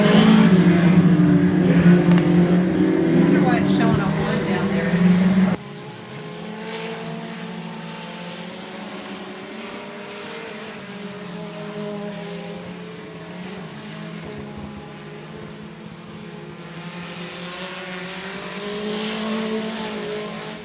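Stock race cars roar around the 105 Speedway oval, a loud close engine pass in the first seconds dropping abruptly to a steadier, more distant droning pack of engines that swells again near the end.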